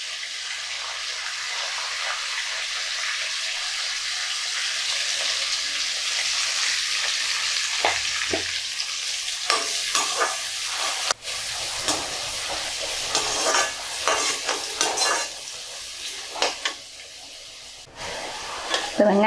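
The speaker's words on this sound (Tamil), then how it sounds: "வெங்காயம் சேர்த்து நல்லா வதக்கிக்கலாம்." Onions sautéing in a pan for a chicken curry, a constant close sizzle that grows busier as stirring and scraping strokes pick up, with sharp clinks of the spoon against the pan.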